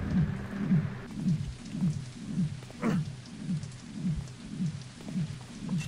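Steady rain falls in a Thief fan mission, a soft hiss layered over a regular pulsing rhythmic thud that repeats about twice a second throughout, with no voices.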